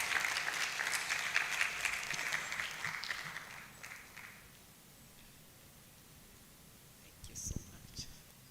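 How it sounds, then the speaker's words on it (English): An audience at an education conference gives a round of applause to welcome a speaker, dense clapping for about four seconds that fades out, followed by quiet rustling and a brief thump. "with a round of applause"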